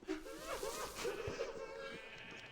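Sheep in Minecraft, some of them sheared, let out faint bleats over a soft background hum, heard close in a short quiet stretch.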